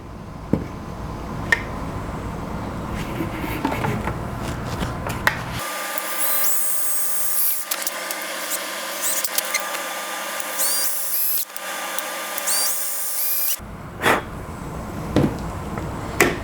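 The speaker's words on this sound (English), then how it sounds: "All right, my 4 holes are drilled" A power drill bores holes in a part for a scratch-built astromech droid model. It gives one loud, steady whine for about eight seconds, with quieter handling knocks before and after.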